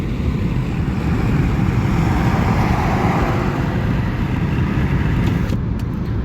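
Car cruising along a highway through Czechia, a steady loud roar of road and engine noise with rushing wind, constant throughout with no talking.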